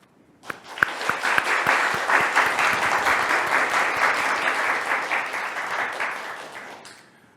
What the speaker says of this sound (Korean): 큰 박수로 서일석 대표님을 환영해 주시면 감사하겠습니다